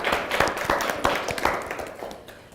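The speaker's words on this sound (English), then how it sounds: "So I think we need to give them a big clap." A meeting audience at a roundtable gives scattered, fairly quiet clapping that tapers off over a couple of seconds.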